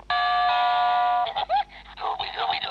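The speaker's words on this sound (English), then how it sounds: "It's one of those, you know, those electronic doorbells that you can put onto things." An electronic doorbell plays a bright sustained chime tone near the microphone for about a second, then people begin talking and laughing over a busy studio background.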